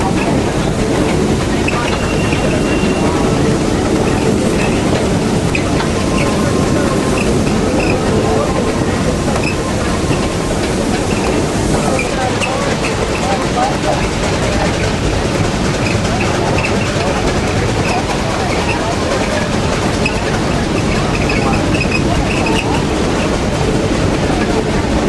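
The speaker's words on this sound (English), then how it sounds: "the engine will pull us up the hill this way until we get to our upper switchback" Cass Scenic Railroad steam locomotive hauling passenger cars uphill gives a constant loud rumble with rhythmic chuffing and rail clatter throughout, heard from aboard the train.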